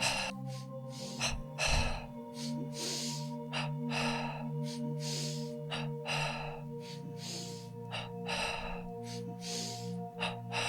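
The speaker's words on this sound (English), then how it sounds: "Breathing into the belly." Rapid pranayama breathing into the belly, a steady train of quick forceful exhales through the nose repeating evenly for several seconds, close and clear with no talking over it.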